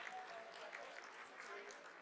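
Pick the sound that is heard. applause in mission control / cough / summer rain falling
applause in mission control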